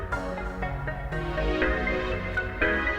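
Layered synth tones in UVI Falcon 2 with tinkling toy piano and dirty toy piano presets play a short melodic pattern, bright plinks riding over a fuller electronic pad.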